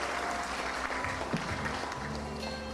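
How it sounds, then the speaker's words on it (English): A school graduation audience gives a round of applause for a hard-working teacher: a steady wash of many hands clapping, moderately loud and unbroken, in a large hall. "Round of applause for our very hard-working teacher as well."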